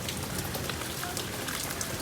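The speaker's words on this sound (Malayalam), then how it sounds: "മഴയാണ്" Steady rain falling on a surface outside a home, a continuous close hiss of drops with no voices.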